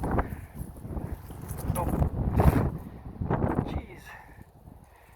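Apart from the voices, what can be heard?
strong wind gusts blowing over the lake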